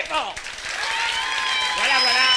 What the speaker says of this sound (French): Monsieur le maire, que je vous demande d'applaudir très, très, très, très fort.